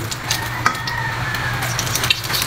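Oil sizzling steadily in a pan being reused from frying, heated for sautéing garlic and onion for an upgraded pork adobo with isaw; a close, continuous crackle with a few sharper pops and no talk.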